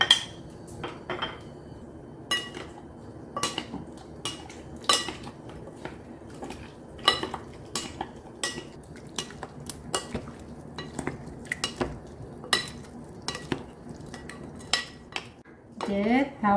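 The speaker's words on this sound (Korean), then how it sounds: "소스를 넣어서 버무려 보겠습니다" Cherry tomatoes being tossed with sauce and chopped onion in a bowl, a series of sharp utensil clinks and taps against the bowl at irregular intervals, close and distinct over a quiet background.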